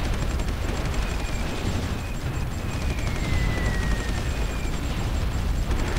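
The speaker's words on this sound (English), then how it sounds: "I have to send the Air Force once again towards this village and just bomb these engineers." Air force bombing strikes on engineers at a village in Supreme Ruler 2020, a dense, continuous roar of explosions and rumbling blasts, loud and unbroken with a faint high whine drifting through it.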